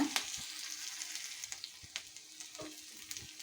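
Finely chopped green chillies sizzle steadily in a hot pan, with soft, regular stirring scrapes and taps over a close, continuous frying hiss.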